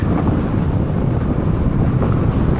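Strong wind buffets the microphone in a steady, loud roar while cycling along a road lined with windmills in the Netherlands, with no voices heard.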